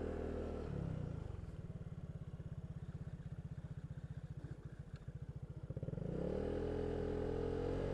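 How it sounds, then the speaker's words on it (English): A small motorcycle engine runs nearby, a steady rapid putter that dips to a lumpy idle in the middle before the revs rise again, no talking. "A small bike."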